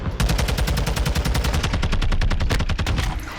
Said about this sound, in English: that guy was a sniper and we outgunned him with the SCAR